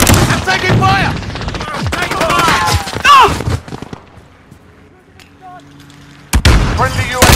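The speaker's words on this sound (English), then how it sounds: "I'm taking fire." In a video game firefight, rapid automatic gunfire crackles in dense, loud bursts, goes quiet for a couple of seconds, then erupts again sharply at the end.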